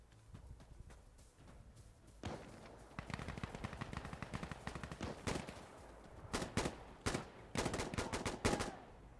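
Firefight gunfire in Insurgency, with scattered single shots giving way to dense rapid automatic bursts, close and sharp, growing heavier toward the end.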